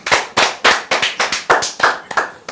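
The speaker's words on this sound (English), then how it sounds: "Let's clap." A group of people claps during a talk-show discussion, roughly ten crisp, evenly spaced claps close to the microphone with no speech over them.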